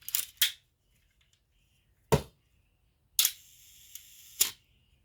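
A broken Olympus OM-1 film camera fires its shutter at a one-second speed: a crisp mechanical clack, a second clack about two seconds later, then a slower pair of snaps with a buzzing gap between them, all in silence.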